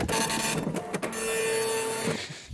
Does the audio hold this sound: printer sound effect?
yes